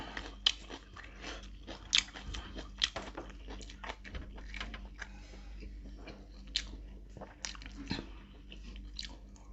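Close, crisp crunching and chewing sounds come from someone eating a spicy pork tongue salad, with irregular sharp bites over steady mouth noise and no talking.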